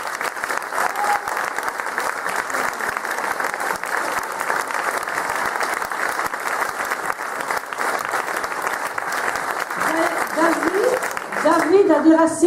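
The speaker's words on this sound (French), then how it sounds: "Alors je crois qu'on va applaudir David." An audience at a Legion of Honour ceremony applauds warmly for a long, steady stretch of dense clapping, and a voice begins speaking over it near the end.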